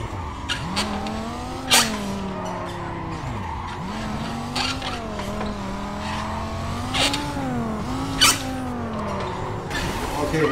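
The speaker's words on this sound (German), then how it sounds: "Ja, genau, das war ein Unfall." Racing car crash in Need for Speed Carbon: engine whine and skidding tires with a couple of sharp impact hits, all under game music.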